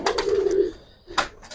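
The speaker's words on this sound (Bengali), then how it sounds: "একটা কাচ্চি কবুতর" A kaachi pigeon coos up close in two loud, throaty bursts, the first drawn out and the second shorter after a brief pause, with no one speaking.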